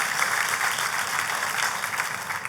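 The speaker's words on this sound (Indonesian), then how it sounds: "Kita kasih tepuk tangan yang paling meriah buat Tuhan kita." Congregation applause at a Good Friday church service, a steady dense wash of clapping that carries on evenly throughout with no voices standing out.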